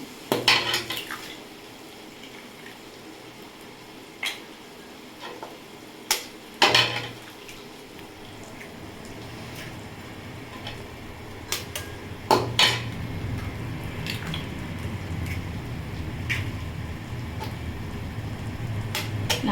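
Four eggs beaten and poured into a pan of sautéed onions for egg Maggi, sharp clinks of utensil against metal bowl and pan, then a building sizzle as the mixture hits the hot pan, no voices.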